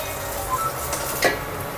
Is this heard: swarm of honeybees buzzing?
no